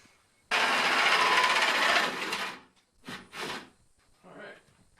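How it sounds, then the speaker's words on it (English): A cordless power drill bores through a wooden door from the back side: a loud two-second burst of whirring and grinding, then a few shorter, quieter bursts with pauses between. "Alright, I'm going to drill from the back side now."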